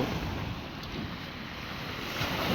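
Rough sea waves roll onto Bray Beach in Ireland on a cloudy, rainy, cold day, a steady wash of surf mixed with gusty wind noise, with no voices.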